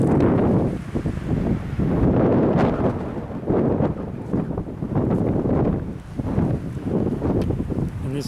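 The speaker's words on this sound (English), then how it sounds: "in this wind, you want to hang on to your hat, because if it blows over, it could go a long way" Strong gusty wind buffets the microphone on a rocky mountain trail to Aztec Peak, a loud continuous roar that surges and eases with each gust.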